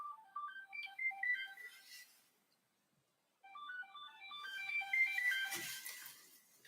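A melodic phone ringtone for an incoming call plays as a bright repeating tune, pausing for about a second before ringing again, clear and fairly close with no talk over it.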